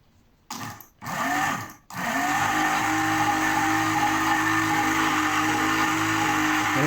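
A small motor on a homemade DIY generator whirs in a steady, loud hum after a couple of brief starts and stops, then runs on continuously.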